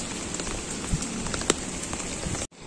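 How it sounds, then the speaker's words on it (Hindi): Heavy rain pours steadily onto surfaces outdoors, a dense continuous hiss with scattered louder drops close by, cutting off briefly near the end. "बहुत तेज बारिश हो रही है"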